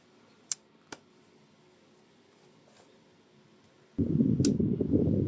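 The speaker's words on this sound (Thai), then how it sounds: "แบตตัวเนี้ยเปิดพัดลมอุสุกะตัวใหม่แรงสุด" A new OSUKA electric fan running on battery power at its top speed: a couple of small clicks in a quiet room, then the fan switches on and whooshes loudly and steadily for the final second.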